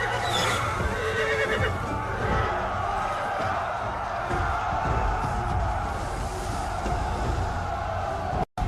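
Panicking horses neigh and whinny amid a dense roar of battle noise and crowd, a loud continuous wash of sound with shrill calls rising through it and no clear speech.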